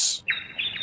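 Birds give a few short, bright chirps in quick succession, close and clear, with nothing else audible.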